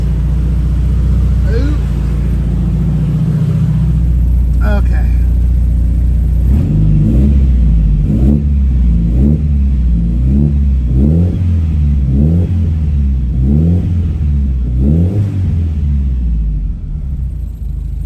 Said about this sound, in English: So let's give it a couple revs.